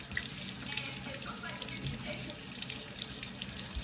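Water running steadily from a bathroom sink tap, a continuous close splashing stream at a moderate level with small fluctuations throughout.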